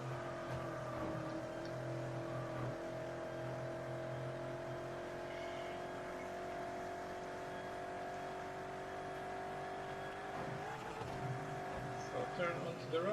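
A Corvette engine drones steadily as the car drives around an island in Test Drive Unlimited, with a constant mid-level hum and occasional revs while someone talks over it.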